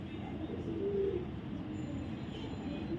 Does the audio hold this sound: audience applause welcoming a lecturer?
no